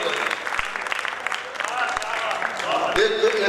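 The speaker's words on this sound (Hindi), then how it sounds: "तालियों की आपकी हल्की आवाज है, इसको जरा और तेज कर दी" An audience at a live mushaira poetry gathering in Pathankot claps in a dense, sustained burst of applause, with a few sharp isolated claps standing out and voices mixed in underneath.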